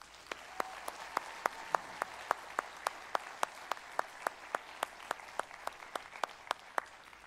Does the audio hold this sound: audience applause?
yes